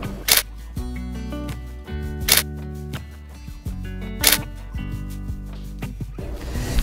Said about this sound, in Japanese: シャッター音もいいでしょ